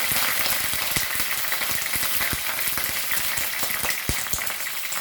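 Curry leaves crackle and sizzle in about a tablespoon of hot oil in a pan while cooking a Goan dahi chicken curry, a dense steady spatter of sharp pops running throughout, loud and close, with no talk.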